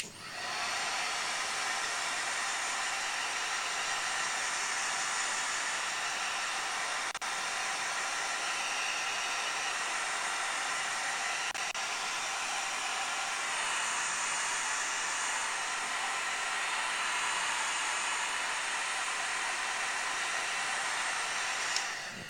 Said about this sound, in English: apologies for the loud hairdryer